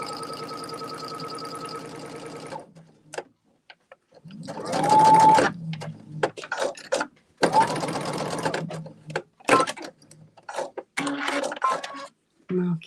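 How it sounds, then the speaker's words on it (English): A sewing machine stitches a quilt block seam in quick, buzzing bursts of several seconds each, separated by short pauses and small handling clicks, heard up close. "line it back up, put it down, back under, and start sewing"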